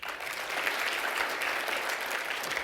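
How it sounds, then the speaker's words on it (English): A business-talk audience breaks into applause, a dense, even wash of many hands clapping that holds steady throughout at moderate distance. "How many, by way of applause, believe it will affect your business?"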